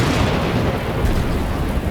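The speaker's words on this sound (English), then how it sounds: "Thunder and lightning combine with cannon fire from Union gunboats to create a night no soldier at Shiloh will ever forget." Thunder mixed with cannon fire from Union gunboats at night on the Shiloh battlefield, a loud, dense, rumbling boom that stays sustained across the whole stretch without clear breaks.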